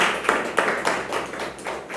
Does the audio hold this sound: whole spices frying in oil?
no